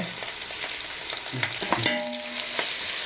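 Ginger garlic paste frying with onions in hot oil, a dense close sizzle with brief stirring scrapes and a faint tonal ring partway through.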